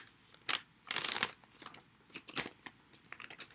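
Crinkly paper crumpled and handled in short bursts, with sharp rustles and crackles in close, irregular clusters over a few seconds.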